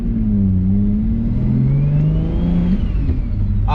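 A tuned single-turbo BMW 335i engine revs steadily and loudly for several seconds, its pitch rising and falling in a smooth, sustained drone close by, with no talking.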